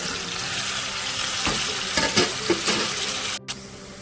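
Onions and green chillies fry in a pan for a village-style tomato curry, sending up a close, steady sizzle with a few stirring knocks and a short clatter near the end, with no talking.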